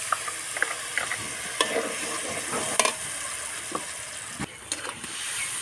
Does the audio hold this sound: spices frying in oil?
yes